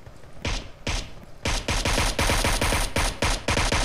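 Automatic gunfire with recoil in PUBG Mobile: a few single shots, then rapid sustained bursts of sharp, loud reports, close and with no talk.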